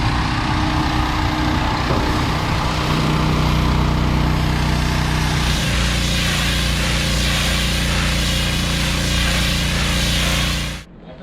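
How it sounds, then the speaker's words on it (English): High-pressure hose washing down the hull of a boat hauled out of the water, a steady loud mechanical roar with a continuous hissing spray throughout, cutting off abruptly at the end. "the guys are going to give the boat a wash down now with the high pressure hose"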